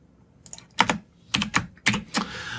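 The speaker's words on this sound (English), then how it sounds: "let me just type in a really quick code example here" Keys tapped on a computer keyboard while a short code example about working with strings is typed in, coming as a few quick clustered bursts of clicks with short pauses between them, close and fairly clear, with no talking.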